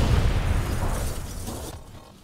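Robots exploding in the video game Call of Duty Black Ops 3: a heavy booming blast with crackling debris that slowly fades out over about two seconds.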